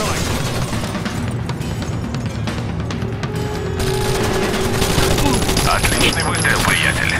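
Sustained rapid gunfire from Tom Clancy's Rainbow Six: Vegas, a dense, loud barrage of automatic weapon bursts that keeps going for the whole stretch without pause.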